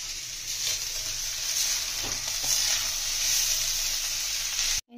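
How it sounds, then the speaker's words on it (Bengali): Meat fries in a pan with ghee for yakhni biryani, producing a constant close sizzle with occasional soft stirring scrapes. The sound cuts off sharply just before the end. "মাংসটা একটু ভেজে নেবো।"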